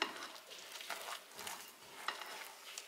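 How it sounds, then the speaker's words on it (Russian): A spoon stirs a thick mixture of egg yolk, beet, vegetable oil and starch in a bowl, giving soft repeated scraping and squelching strokes, quiet and close. "Потом все это перемешиваем до однородной массы."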